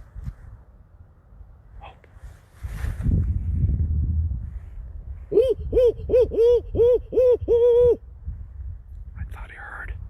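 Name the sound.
barn owl calling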